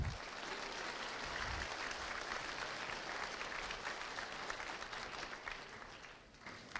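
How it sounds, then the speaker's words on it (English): An audience claps in a dense, continuous round of applause, fairly quiet overall and tapering slightly near the end, with a little crowd noise mixed in. "Claps for Black Piper."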